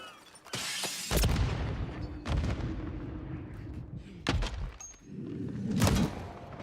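Pistol gunshots fire in a video game, with four loud, booming reports at irregular intervals, each trailing into rumbling reverb and game noise.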